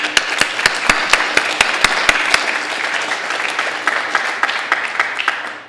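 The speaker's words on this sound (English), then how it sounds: "we should do a round of applause for both of them" Audience applause at a 2015 talk on restoring New Bedford Harbor, starting with a few sharp, loud claps and swelling into steady clapping from a crowd that continues for several seconds before tapering off.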